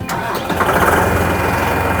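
A farm tractor engine cranks and catches after a key turn, a loud near starter whir settling quickly into a steady rumbling idle.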